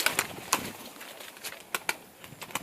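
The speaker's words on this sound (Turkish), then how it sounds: "Güvercinleri uçurmayı deneyelim." Tumbler pigeons flapping their wings in a run of sharp, quick flutter bursts, some close and some a little farther off, with faint soft cooing underneath.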